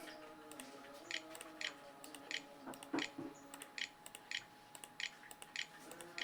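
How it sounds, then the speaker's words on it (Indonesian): Typing on an external computer keyboard plugged into an HP 14s laptop motherboard under test, a quiet series of crisp, irregular key clicks with short pauses, close by against faint background hum. "Kita masukkan menggunakan keyboard eksternal."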